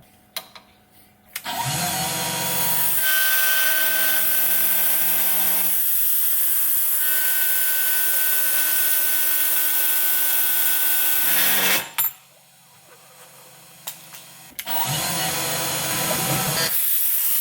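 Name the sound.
milling machine cutting with a large end mill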